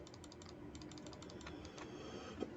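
Calculator buttons are pressed in a quick run of small, faint plastic clicks, evenly paced, over a steady low room hum with no talk.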